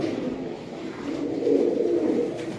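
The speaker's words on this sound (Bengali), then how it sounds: "এক জোড়া লাল চুল্লি কবুতর, ফুল অ্যাক্টিভ" Red pigeons cooing close by, soft throaty rolling coos that swell in the middle and continue steadily to the end.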